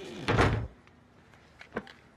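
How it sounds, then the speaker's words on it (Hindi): A door opens or shuts with one solid thud near the start, followed moments later by a faint latch click, heard close in a quiet room. "दरवाजा।"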